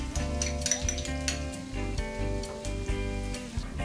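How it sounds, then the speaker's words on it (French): Garlic browning in frying oil in a small pan over medium heat, a soft steady sizzle with light clinks and scraping of stirring, faint and close, with no talking. "y faire dorer l'ail."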